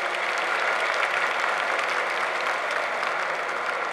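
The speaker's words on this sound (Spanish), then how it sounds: "Un aplauso a nuestros niños." An audience at an evening student honors ceremony applauds the children, a dense, steady roar of many hands clapping that stays loud and even from start to finish.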